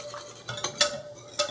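Electro-active slime being mixed by hand, giving a few soft, wet squishing bursts against a quiet background.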